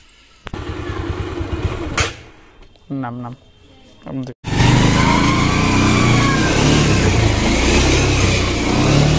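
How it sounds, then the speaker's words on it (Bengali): A motorbike on a rough village road is started, then its engine roars continuously and loudly, revving for several seconds after a few brief spoken words and a click. "বাইকটা স্টার্ট দিতেছি,"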